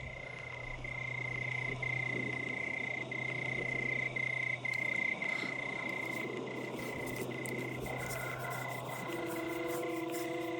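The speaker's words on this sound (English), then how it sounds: "from all round them came little squelches and croaks" Frogs croaking in a swamp at night, a dense, continuous chorus of trilling calls and steady tonal drones, some near and some farther off, with no talking.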